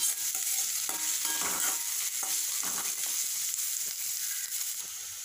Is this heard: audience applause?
no